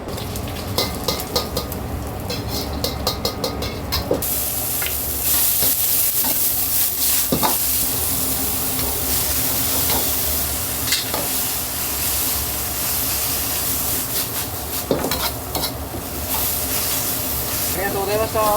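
A ramen chef tosses a wok over high heat, with food stir-frying in a continuous loud sizzle and hiss, sharp metallic clanks of the pan, and voices talking underneath.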